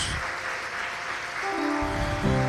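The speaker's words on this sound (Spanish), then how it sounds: "Aplauda fuerte la grandeza de su Dios" Church congregation claps loudly after a sermon on finances, a continuous roar of applause with musical tones rising beneath it toward the end.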